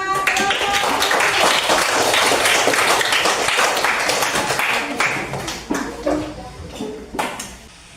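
A classroom group applauds, a loud dense burst of clapping that thins out into scattered claps toward the end.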